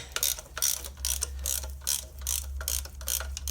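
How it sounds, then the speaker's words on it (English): A ratchet wrench clicks steadily and rapidly as it backs out the last bolt holding the manifold on a Ford Focus 1.6 diesel engine, loud and close with no voices. "Just going to remove this last bolt here,"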